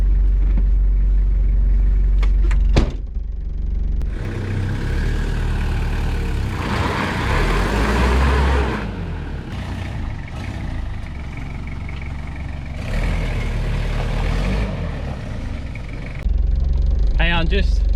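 Four-wheel drive vehicle crawling over rough off-road ground by a lake, its low engine rumble rising and falling in surges as it climbs, with a person talking over it throughout.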